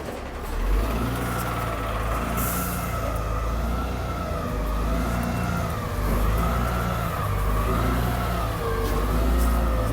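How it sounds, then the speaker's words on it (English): A garbage truck drives along a Paris street, its engine rumbling loud and steady with a wavering whine rising and falling over it, and no talk. "watch a garbage truck."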